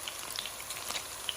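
Okra frying in a pan in a Moroccan kitchen gives a soft, steady crackle with scattered small pops, faint and close, with no voices.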